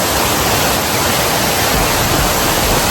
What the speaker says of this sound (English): Look at this waterfall, but I made it.